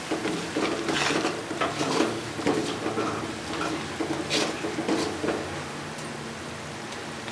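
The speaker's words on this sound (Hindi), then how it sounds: "अच्छे तरीके से मिक्स कर फ्राई करेंगे।" Spices with dry coriander are stirred and fried in a pan for a curry of cabbage, potato and peas: steady scraping and clinking strokes of a spoon over a faint sizzle, repeating in an uneven rhythm.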